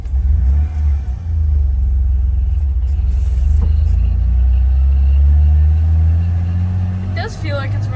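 A drag-and-drive truck engine idling and revving, a loud deep rumble close by that swells with rising revs before settling, with a person talking over it.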